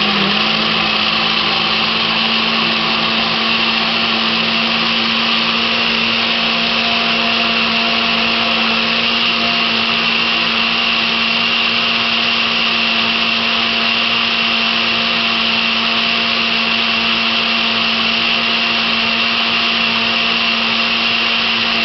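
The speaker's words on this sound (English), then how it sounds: "Allow to blend for about 2 to 3 minutes." Loud, continuous whirring of a blender motor running steadily at high speed without pause, blending plantain with water.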